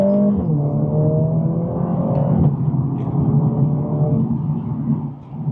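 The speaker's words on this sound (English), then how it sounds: "let's go for a drive in the CLA 45S. We're currently on sports mode, starting with acceleration" A Mercedes-AMG CLA 45S in sports mode accelerates hard from inside the cabin, its engine note climbing through the gears with quick shifts and a steady loud rumble.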